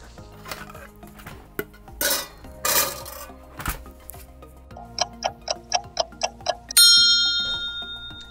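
Clanks and rattles as a camera lens goes into a kitchen oven, followed by a quick run of ticking clicks as the dial turns and a bright ringing chime that fades out.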